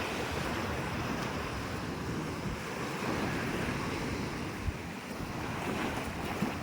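Ocean waves washing in after Typhoon Kristine, a steady broadband roar of surf mixed with gusty wind buffeting the microphone, continuous and fairly loud with a couple of brief knocks.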